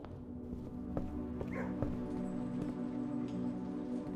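A dog in the video game Blue Prince gives a few short yips and whimpers, faint and brief over a steady low hum with soft ticking clicks.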